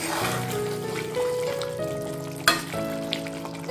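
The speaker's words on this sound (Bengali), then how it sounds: "ঢাকা খুলে দিচ্ছি। একবার নেড়ে নিচ্ছি।" Ivy gourd curry sizzles and frypans in a pan just uncovered, a spoon stirring through it with a couple of sharper clinks against the metal, close and steady with no talking.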